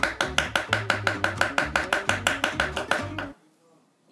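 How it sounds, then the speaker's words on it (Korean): A knife chops food on a cutting board at a quick, even rhythm, about fifteen close crisp strokes that then stop abruptly, leaving near silence. "이제 칼질 들어갑니다."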